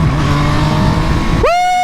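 An MV Agusta Brutale Dragster 800 RR motorcycle ridden on a twisty California road, its engine droning loudly, then the revs rising sharply in a quick whining climb near the end.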